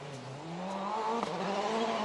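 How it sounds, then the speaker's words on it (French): M-Sport Ford rally car driven hard on a dry road, its engine revving and climbing steadily in pitch as it accelerates, heard at moderate distance. "Vraiment à l'attaque sur cette Ford de l'équipe M-Sport Qatar."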